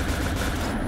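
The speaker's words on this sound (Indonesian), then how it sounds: "coba di spam tembakan aja" Rapid, continuous bursts of gunfire in Point Blank fill the moment, a dense unbroken spray of shots with no pauses.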